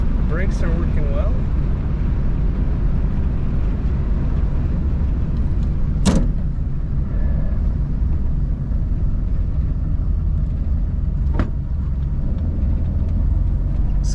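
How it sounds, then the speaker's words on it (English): A 1932 Chrysler CI three-window coupe idles quietly on its stock engine, a low, even rumble running throughout with a few brief clicks and knocks over the top. "Such a quiet running car."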